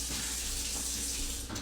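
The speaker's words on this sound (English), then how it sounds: "let me just go wash my hands and then I'll continue forming the pastry" A kitchen tap runs steadily as hands are washed, a constant close hiss of flowing water with no speech.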